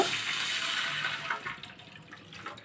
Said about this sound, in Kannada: ಒಂದು ಲೋಟದಷ್ಟು ನೀರನ್ನು ಸೇರಿಸ್ಕೋಬೇಕು ಇವಾಗ